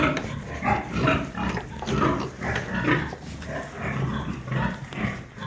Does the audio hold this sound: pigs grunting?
yes